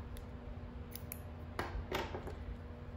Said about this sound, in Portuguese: vamos cortar o fio e arrematar.